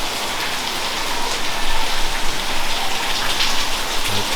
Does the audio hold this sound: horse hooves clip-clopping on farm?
no